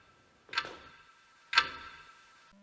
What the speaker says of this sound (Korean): 자정을 알리는 시계 소리